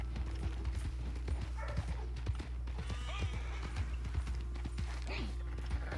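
Horses in a Wild West video game, hooves clip-clopping in a steady irregular patter with occasional faint whinnies, heard over a constant low rumble of ambient game sound without talk.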